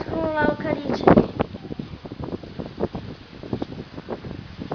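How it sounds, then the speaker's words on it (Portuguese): Strong outdoor wind buffets the microphone throughout as a steady low rumble, with people talking over it. "ó o vento"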